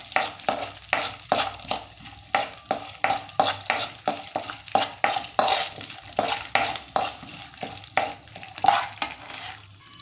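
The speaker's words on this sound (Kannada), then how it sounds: "ಇವಾಗ ನಾನು ಇದಕ್ಕೆ ಉದ್ದಿನಬೇಳೆ, ಕಡಲೆಬೇಳೆ ಮತ್ತು ಕಡಲೆಕಾಯಿ ಬೀಜ ಹಾಕ್ಕೊಂಡು ಸ್ವಲ್ಪ ಫ್ರೈ ಮಾಡ್ಕೊತೀನಿ" Urad dal, chana dal and peanuts fry in hot oil. A rapid, busy run of metallic stirring and scraping clinks repeats in an uneven rhythm over a light sizzle. The sound is close and fairly loud, with no talking.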